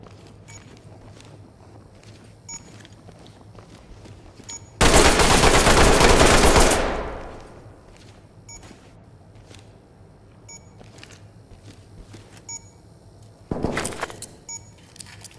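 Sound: gunfire in video game Ready or Not

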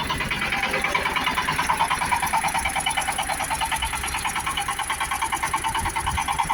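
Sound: Shifeng SF 354 mini tractor engine running

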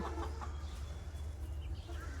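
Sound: hens clucking

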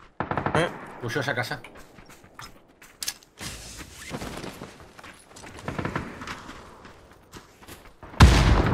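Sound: gunfire in PUBG video game

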